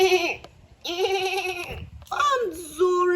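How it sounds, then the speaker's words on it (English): A goat bleats in several drawn-out, wavering calls close by, with short gaps between them, part of a children's toy play scene. "A goat!"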